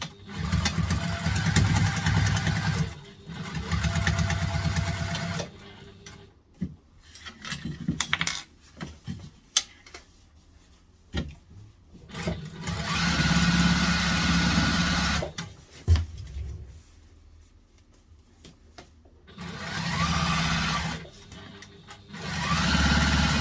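A sewing machine top stitches and bastes around a backpack, running in loud bursts of steady stitching that stop and restart, with short clicks and handling sounds between the runs.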